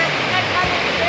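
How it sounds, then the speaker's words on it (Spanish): Santa Cleotilde cascade, a waterfall in Yacuambi, Zamora Chinchipe, roaring as a steady broadband rush close by, with a voice faintly audible under the constant water noise. "Una cascada algo fácil relativamente"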